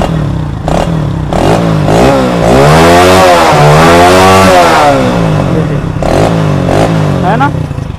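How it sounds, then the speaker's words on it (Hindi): A Hero HF Deluxe BS6 motorcycle engine, freshly fitted with a new carburettor, revs up smoothly and holds a steady rising throttle for several seconds, loud and close, between brief idle blips. "देखिए अब एक्सेलेटर देने पर यहाँ पर कोई किसी तरह की मिसिंग नहीं, और एकदम से एक्सेलेटर पकड़ती है।"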